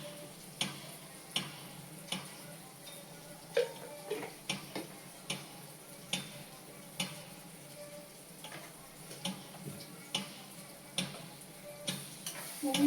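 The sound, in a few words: stirring spice mixture with cumin powder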